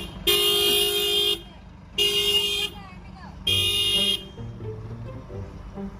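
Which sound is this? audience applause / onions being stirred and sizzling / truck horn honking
truck horn honking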